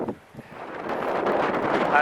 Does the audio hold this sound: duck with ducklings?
no